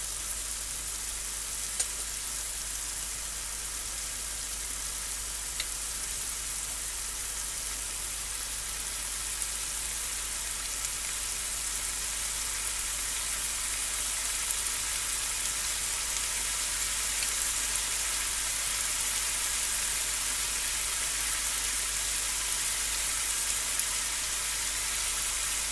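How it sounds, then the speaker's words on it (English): Steady, dense sizzling of broccoli frying in hot beef dripping, continuous and close with no talking. "while my broccoli is frying in beef dripping"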